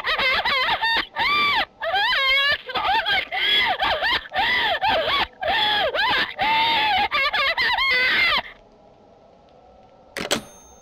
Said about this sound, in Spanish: Parece un grito de desesperación o risa, ¿no?